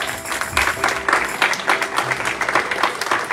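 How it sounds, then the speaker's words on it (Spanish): A church congregation claps in a strong, steady rhythm, the beats pulsing evenly through a full room sound. "Dale un fuerte aplauso al Rey de Reyes y Señor de Señor."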